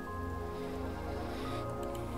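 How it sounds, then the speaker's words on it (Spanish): Heavy torrential rain in the horror video game Psicosis, a dense continuous wash of rainfall beneath a sustained musical drone, loud and steady throughout with no one speaking. "Lluvias torrenciales."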